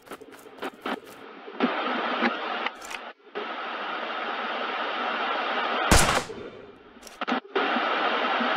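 Video game gunfire rattles in long, continuous automatic bursts, loud and close, broken by a few brief gaps and sharp louder reports.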